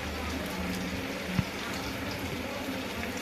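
Aloo tikki shallow frying in oil in a pan on a medium flame, a steady dense sizzle and bubbling throughout with one small tap near the middle.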